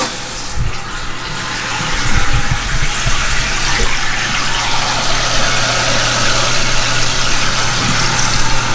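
A toilet tank refills after the water supply is turned back on, with a continuous loud rushing hiss of running water that holds steady throughout and a low hum underneath.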